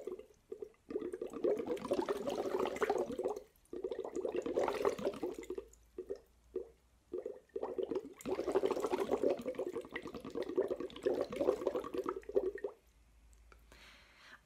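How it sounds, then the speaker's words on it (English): Breath blown through a straw into a water bottle makes long bubbling gurgles, several sustained bursts separated by short pauses and brief puffs, close and fairly quiet. "I've got my water bottle and a straw. I can make some long sounds with this one."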